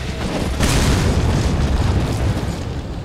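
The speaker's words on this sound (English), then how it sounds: "Let's see how you handle a grenade." A grenade explosion in the survival horror game Resident Evil 4 lands as a heavy, loud boom, and its rumbling, crackling debris tail lingers for several seconds with no voices over it.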